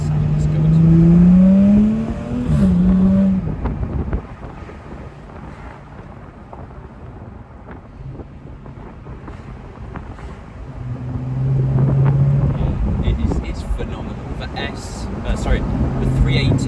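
A 2018 Jaguar F-Type 3.0 V6 P380 R-Dynamic AWD convertible with switchable exhaust revs loudly, settles to a lower drone, then swells again, under heavy wind buffeting.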